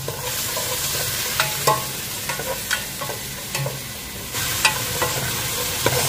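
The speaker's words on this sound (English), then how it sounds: "Saute." Garlic and onions sautéing in a pan, a steady sizzle with repeated scraping stirs and clinks of the utensil against the pan at close range.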